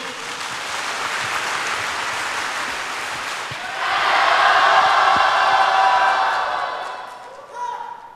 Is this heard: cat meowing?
no